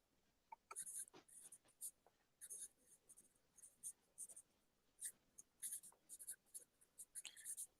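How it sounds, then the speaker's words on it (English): Handwritten notes being written, heard as faint, close scratchy pen or pencil strokes in short irregular bursts against a quiet background. "going to write notes to each other"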